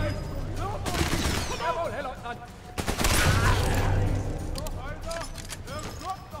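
Enemy gunfire in Sniper Elite 4, scattered shots and bursts through the clip, with a louder stretch around the middle, under someone talking.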